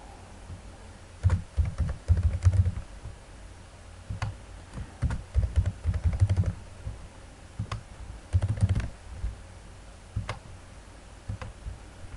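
Typing on a computer keyboard while filling in a name for a new account, bursts of close, crisp keystrokes in irregular clusters with short pauses between them, no voices.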